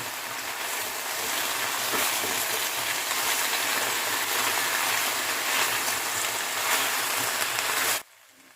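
Mixed vegetables for labra, a Bengali niramish pachmishal dish, fry on a high flame with a steady, dense sizzle and crackle that runs loud and unbroken, then cuts off abruptly near the end.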